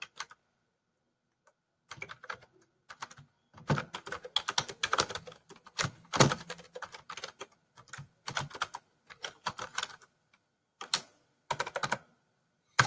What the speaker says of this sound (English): I'm going to type what I see in step 3